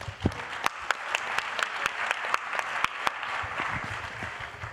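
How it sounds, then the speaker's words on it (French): Scattered audience applause at a conference on emerging markets, a thin, fairly quiet patter of individual claps with a few sharper hand slaps standing out over a soft wash of clapping. "Je vous demande de les applaudir chaleureusement"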